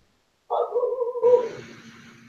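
Dog barking close by: a single tonal, whining bark that breaks into a rougher yelp and then fades, heard alone without talk.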